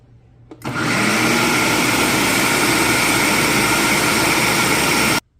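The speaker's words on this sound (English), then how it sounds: "I'm going to put my lid on, blend it well, and then I'm going to separate my batter." A countertop blender purees lentils and split peas with a little salt into batter, kicking on abruptly into a loud, steady high whir that runs for several seconds before cutting off sharply.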